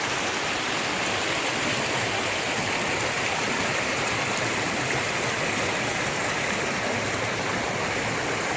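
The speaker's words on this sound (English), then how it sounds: "Come out here and look at the stream or the brook." A wilderness stream flowing near a waterfall at Gully Lake, a steady, dense rush of water filling the scene at close range with no voices.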